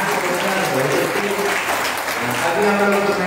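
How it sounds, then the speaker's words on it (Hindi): An audience at a Srimad Bhagavatam religious gathering in a village in Uttar Pradesh breaks into steady, sustained applause, a dense wash of many hands clapping together without a pause. "ताली बजाओ तो दे दी"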